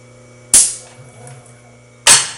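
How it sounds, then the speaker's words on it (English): A CNC lathe turret on an Acroloc machine converted to Mach3 unlocks, indexes and relocks, giving two loud sharp mechanical clacks about a second and a half apart over a steady machine hum, with a faint whir between them. "it disengages the turret lock, indexes the turret, and it re-engages the turret lock"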